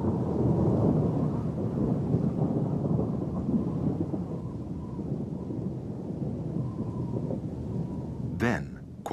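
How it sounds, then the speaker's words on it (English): A full thunderstorm rolls through mountain terrain, a steady wash of heavy rain and low rumbling thunder filling the whole stretch, with a brief sharp crack near the end. "Until it escalates and turns into a full-blown storm."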